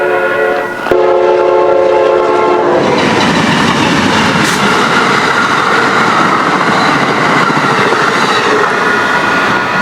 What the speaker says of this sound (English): We got a train coming in.